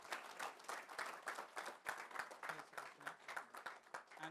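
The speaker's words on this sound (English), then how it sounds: "if you could give a round of applause, Puneet is here." Conference audience at an Autodesk manufacturing event breaking into steady applause, dense overlapping claps filling the room for several seconds at an even, sustained level.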